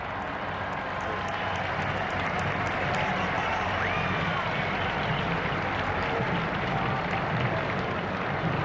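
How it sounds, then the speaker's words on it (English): A large crowd in Rome roars and cheers continuously as white smoke signals a new pope, a dense, distant wash of voices with no pauses. "Let's just listen to the cheers of the crowd for a moment."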